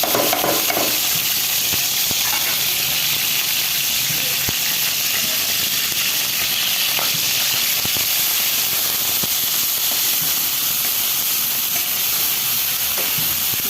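Shrimp frying in mustard oil, a steady loud sizzle and hiss filling the space continuously, close by, with occasional faint clicks of a utensil.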